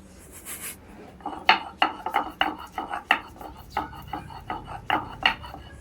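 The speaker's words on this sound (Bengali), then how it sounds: "আমি একে একে করে সম্পূর্ণ জিনিস আমি বেটে নেব" Soaked raw lentils with garlic, chili and salt are ground by hand, heard as about a dozen close, rhythmic scraping and grinding strokes over a quiet background.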